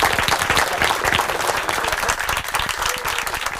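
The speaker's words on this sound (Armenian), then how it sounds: "Եկեք ոգևորենք մեր գիտակներին, մեր ջերմ ծափահարություններով" Studio audience at an Armenian TV quiz show, What? Where? When?, breaks into warm, sustained applause, a dense steady roar of clapping hands filling the room for several seconds without pause.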